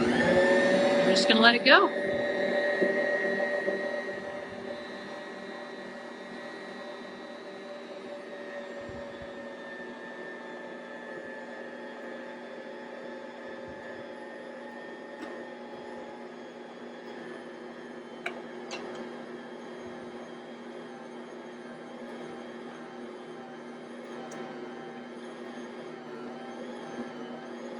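Stand mixer running steadily while kneading soft dinner roll dough, a louder clatter at the start settling into a continuous whirring hum with occasional small clicks, a voice speaking briefly over it.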